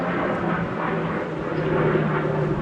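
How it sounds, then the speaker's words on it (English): A fixed-wing airplane passes overhead, a steady broadband engine roar with low droning hum holding at constant loudness throughout, no talk over it. "sorry, there's a plane"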